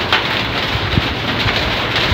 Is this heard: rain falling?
yes